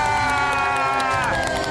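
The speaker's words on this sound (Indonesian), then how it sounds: "Kita boleh berikan tepuk tangan buat Ibu Risma." A studio crowd at a TV cooking-competition show cheers and whoops for a cancer survivor, a loud, dense burst of voices throughout the short stretch.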